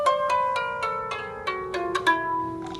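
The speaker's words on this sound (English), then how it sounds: "this is a kinnor harp, which is very similar to a lyre" A kinnor, a small lyre-like harp, plucked note by note in a slow descending and rising line, each string ringing clearly and overlapping as it decays, played alone with no voices.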